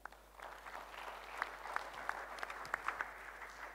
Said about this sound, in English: A big round of applause to ourselves